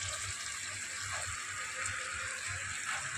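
Water poured into a pan of frying stuffed eggplant masala with fried tomatoes and onions, a steady hissing, bubbling wash of sound that holds for a few seconds with no talk over it.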